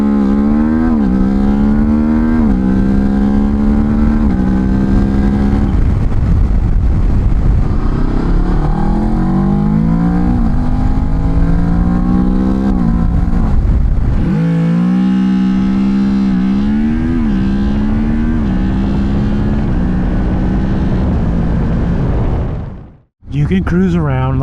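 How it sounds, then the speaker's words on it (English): Motorcycle with new sprocket gearing, ridden at speed: a loud, close engine drone rising and falling through gears for over twenty seconds under wind rush, then cutting off abruptly near the end, with a person talking over it. "It's got so much pulling power, you won't believe it."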